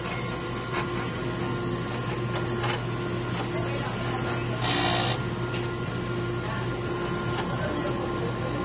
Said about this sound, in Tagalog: Ito po ang ating smart machine printer.